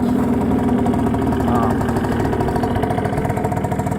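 A Hyosung Sense 50 scooter engine idles after a cold start at -5 °C in a Norwegian winter, giving a steady, close, continuous putter with a firm low hum and no break.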